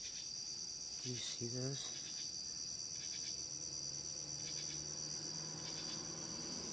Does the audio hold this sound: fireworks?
no